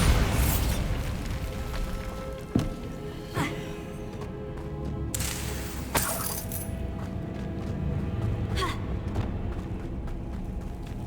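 The Bombarda explosion spell in the video game Hogwarts Legacy goes off in several sharp booms and bursts over a busy, loud game soundscape, with a couple of stronger blasts standing out.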